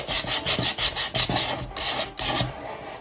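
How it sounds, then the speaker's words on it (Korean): Rhythmic rasping of sandpaper rubbing against wood edges and corners, quick back-and-forth strokes repeating steadily up close, with a short pause partway through. "이와 같이 사포로 각 모서리 부분과 튀어나오는 부분을 먼저 해주시고요"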